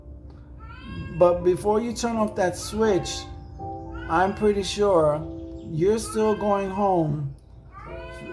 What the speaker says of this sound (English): She's like meowing like crazy.